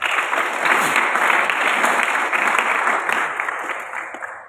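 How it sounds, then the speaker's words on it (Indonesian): Steady applause from an audience at an Islamic student spiritual (ROHIS) training session, a dense, continuous clapping that holds loud throughout before thinning slightly at the end. "Boleh tepuk tangan."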